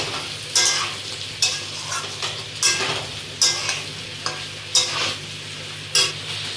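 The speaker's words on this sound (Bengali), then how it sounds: "এর মধ্যে দিয়ে দেবো হলুদ দু চামচ মতন দিয়ে আবার একটু নাড়াচাড়া করে নেব" Fried potatoes with a couple of spoons of turmeric stirred in a pan, with regular scraping strokes about once a second over a steady low sizzle; no talking.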